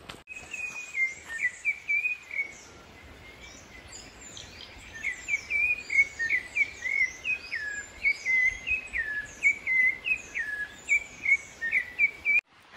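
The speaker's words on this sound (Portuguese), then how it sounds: "Só barulho de pássaro." Birds sing in a quiet, preserved mountain area of Caparaó where no cars or motorbikes enter, repeated high whistled phrases coming in bursts, some near and clear, over a faint insect hum and otherwise hushed surroundings.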